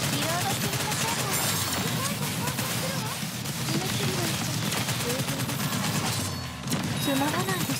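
Sustained concentrated gunfire in the NIKKE video game, continuous heavy automatic shooting mixed with battle effects and music, with character voices talking over the barrage.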